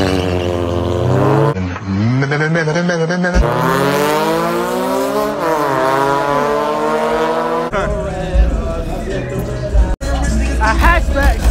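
A Hyundai Elantra and a Chevrolet Camaro rev hard and loud at a street car meet, pitch rising and falling through sweeping accelerations, with crowd noise and rumbling in the background.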